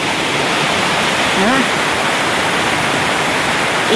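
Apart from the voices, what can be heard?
rushing river water during a flash flood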